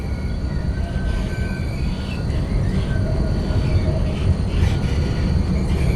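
A tram in the City Transport Simulator video game runs along its route with a steady, loud rumble of wheels on rails and faint squeals, continuous and close.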